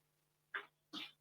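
Two short, muffled sneeze-like bursts about half a second apart, fairly close but quiet, with a faint steady hum behind them.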